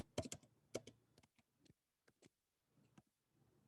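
Quick bursts of typing on a computer keyboard entering a math expression into software, clusters of sharp keystroke clicks at the start, then sparser, fainter taps with pauses between them in a quiet room.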